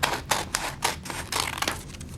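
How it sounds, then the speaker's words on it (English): Scissors snip through the corner of a sheet of paper, several crisp close cuts in quick uneven succession with no talking. "Take your scissors, and all you do is you cut the corner"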